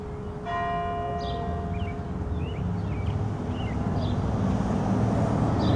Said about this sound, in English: Although I missed the first part of the sound of the bells, at least I got a little bit of it.